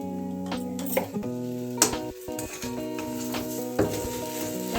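Potato chop filling with coriander powder and spices is stirred in a pan, with intermittent scraping and clacking strokes of a spoon against metal over a steady tonal background hum.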